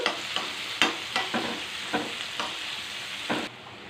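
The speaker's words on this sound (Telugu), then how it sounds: "కరివేపాకు, ఉల్లిపాయలండి వేపుకున్నాము. దారగా వేపుకొని తాలింపు పెట్టుకున్నాం." Curry leaves and onions sizzle in hot oil for a rasam tempering while a utensil scrapes through the pan in regular, repeated strokes, close and clear.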